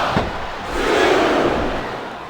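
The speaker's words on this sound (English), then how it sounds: "It sounds like this capacity crowd has something on their minds." A large capacity arena crowd roars and chants together in a loud, steady swell that builds and then eases slightly, at a wrestling match in the video game WWE SmackDown vs. Raw 2007.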